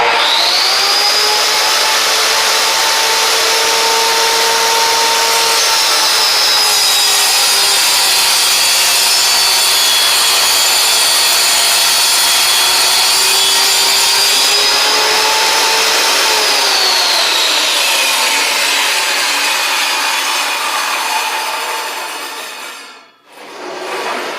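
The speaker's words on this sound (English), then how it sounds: "turn on your saw, let it get up to full speed" A vertical panel saw rips through a wood panel to make a cabinet back, a loud, steady whine with shifting tone that runs continuously for over twenty seconds before tapering off at the end of the cut.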